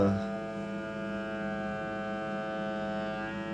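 Cordless vacuum jar sealer motor running steadily as it pumps air out of a jar of marshmallows, a constant close tonal hum with layered harmonics holding at even loudness throughout.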